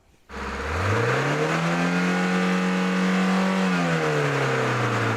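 A car engine under an oil pressure test is revved up to 4000 rpm. It rises quickly from idle to a steady, loud high rev, holds there, then begins to ease down near the end. No one speaks.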